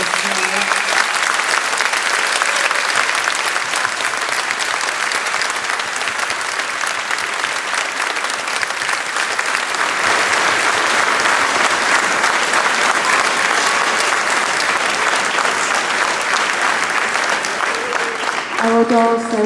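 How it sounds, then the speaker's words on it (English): Sustained applause from an audience at a primary school dancers and composers festival, dense and steady clapping filling nearly the whole stretch, with a few voices surfacing near the end. "I would like you to just give everyone a huge round of applause"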